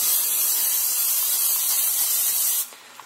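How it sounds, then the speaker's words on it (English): A long, close hiss from a can of cooking spray held down onto pans for a few seconds, then cut off abruptly into quiet. "I spray the hell out of these pans"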